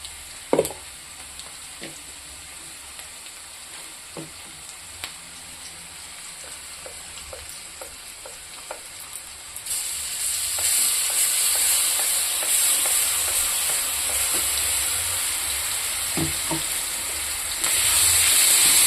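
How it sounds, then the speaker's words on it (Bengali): Masala spice paste fries with browned onions in a pan, a steady sizzle that swells louder and hissier partway through, broken by occasional spatula scrapes and taps. "মশলাটা একটু ভাজা ভাজা করবো।"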